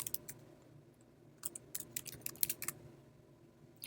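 Keys clatter on a computer keyboard as a year is typed into a budget calendar spreadsheet, a few quick bursts of light clicks close by in a quiet room.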